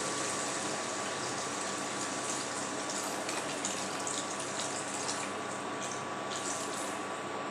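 Water pours steadily into a curry of fried fish head and tail with eggplant and potato, a continuous loud gushing rush that lasts throughout without talk.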